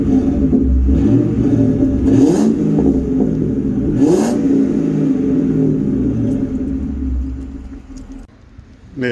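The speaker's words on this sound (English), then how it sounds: "these is a Flowmaster exhaust, I believe" A car engine with a Flowmaster exhaust rumbles at idle and is revved hard twice, the deep exhaust roar swelling and falling back, then settling into a low idle.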